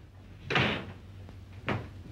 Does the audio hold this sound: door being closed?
yes